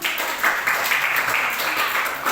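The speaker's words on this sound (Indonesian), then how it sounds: "Tepuk tangan sekali lagi." Students in a classroom clap together for a classmate, a short, even patter of applause at moderate volume.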